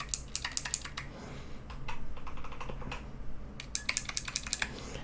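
Rapid bursts of keystrokes on a clicky tactile mechanical keyboard with springs of about the same weight as a Corsair K100, sharp close clicks in quick runs with a short pause in the middle, no talking.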